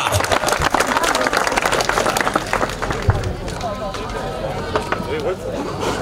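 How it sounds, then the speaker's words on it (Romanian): Crowd applause and clapping at an awards ceremony for the Dacia Revival podium of a historic vehicle hill-climb championship, loud and steady throughout, with a voice talking over the clapping. "Haideți cu aplauze pentru podiumul de la Dacia Revival"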